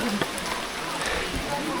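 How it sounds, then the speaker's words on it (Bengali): Steady rain falls close by on Chandranath Hill, Sitakunda, Bangladesh, an even, dense patter and hiss that carries on without a break. "এখন তো অলরেডি বৃষ্টি হচ্ছে"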